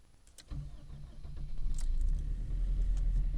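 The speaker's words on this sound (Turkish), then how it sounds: "Ve maşallah aracımız çalıştı." A 2010s Opel Astra J 1.3 CDTI diesel engine cranks and catches on a cold start at about -17 to -24°C, then settles into a steady, low rumbling idle that gradually grows louder.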